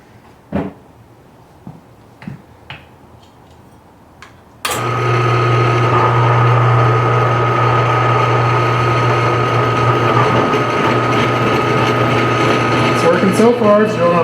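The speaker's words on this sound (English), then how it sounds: "So far, it's drilling out the inside" Power drill drilling out a stuck chainring bolt on bicycle cranks, a loud steady motor whine starting abruptly after a few quiet knocks and running continuously to the end, with faint voices under it.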